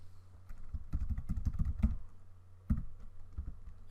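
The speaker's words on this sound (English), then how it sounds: "it's going to ask you to type your email address again" Keys tapped on a computer keyboard while an email address is entered during account setup, a quick uneven run of clicks followed by a pause and a single louder keystroke, close and fairly quiet over a low steady hum.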